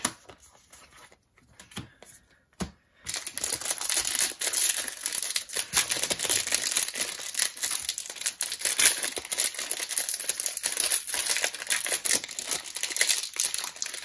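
A Magic: The Gathering Theros Beyond Death booster pack wrapper is torn open. A few quick tearing tugs come first, then a long, loud, continuous crinkling of foil packaging close up.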